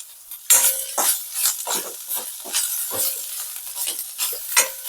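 Chili powder fries in hot oil with a soft sizzle, while a spoon stirs and scrapes against the pan in quick, irregular strokes close by, with no talk.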